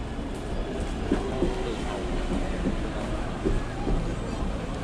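Train rolling past near Kaohsiung's Love River and Pier 2 area, a continuous rumbling rush with faint rhythmic clatter, while voices talk over it.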